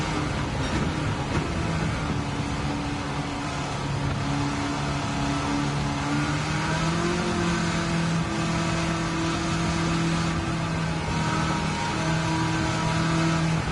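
Engine-swapped Nissan S14 Silvia in Gran Turismo 7 pulling hard at high speed, a steady loud engine drone whose pitch climbs slowly and shifts slightly, with no voices.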